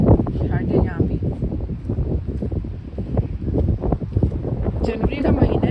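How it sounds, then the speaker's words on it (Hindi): Strong January wind gusts across an open lakeside in the USA in winter, a steady roaring buffet on the microphone that fills the scene, with someone talking over it. "जनवरी का महीना है और इतनी तेज़ हवा है"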